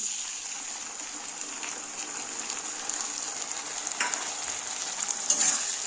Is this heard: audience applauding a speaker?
no